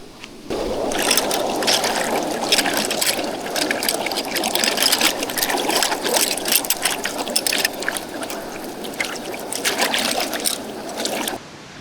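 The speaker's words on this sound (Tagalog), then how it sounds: "Banlawan natin ito guys sa ilog." Steady gurgling and splashing water as camping gear is rinsed in a river at a campsite, continuous for about eleven seconds and fairly close, with no talking.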